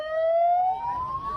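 Wailing ambulance siren sweeping slowly upward in pitch, loud and close, as the ambulance travels with a wedding car convoy across the Musi 4 Bridge in Palembang.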